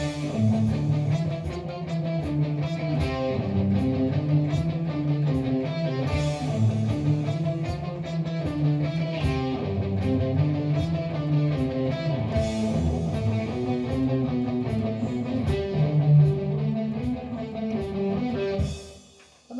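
Electric guitar on a Les Paul playing a part with palm-muted notes over a loud, full backing track, continuous and dense throughout before cutting off at the end.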